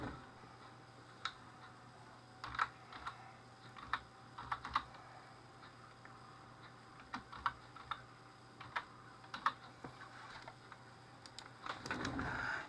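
Keystrokes on a computer keyboard as a user name is typed during a Windows 10 setup, quiet irregular clicks in short bursts with pauses, ending in a brief rustle.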